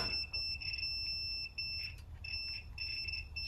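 A continuity tester beeps as a small engine's ignition switch is turned on and its contacts connect: a thin, high electronic tone that cuts in and out in short irregular bursts over a low background hum, with no talking.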